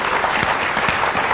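A man claps by himself at a talk-show interview, a quick run of sharp, close hand claps at an even rhythm, with no one else clapping.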